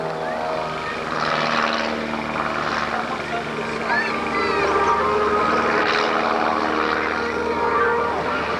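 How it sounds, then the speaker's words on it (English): A stunt biplane pulls loops and turns overhead, its propeller engine droning steadily and rising and falling in pitch as it wheels across the sky, with some voices underneath. "He's putting about 7G at the moment with his special biplane as he loops and wheels above us."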